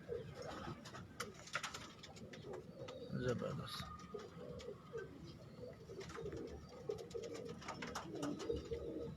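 Breeder pigeons coo softly and repeatedly in a loft setup, low throaty calls overlapping at close range while someone talks quietly over them.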